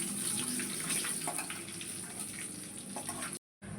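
Whole spices and bay leaf temper in hot oil for dal, making a soft, steady, hissing sizzle that cuts out briefly just before the end.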